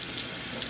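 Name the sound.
washing hands under a running tap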